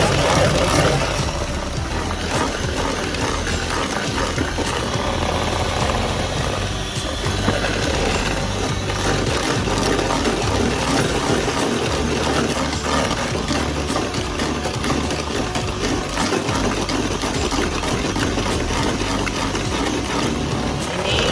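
An electric mixer whips a cake batter until stiff, a loud, close, steady motor whir with a constant buzzing drone and rattling texture that runs unbroken for the whole stretch.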